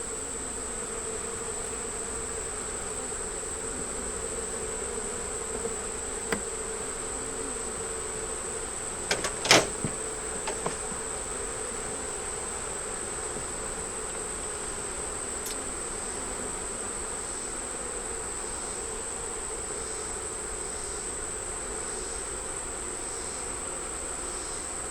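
Honeybees bringing pollen into the hive make a steady, close insect buzz with a constant high drone, broken by a few brief soft knocks.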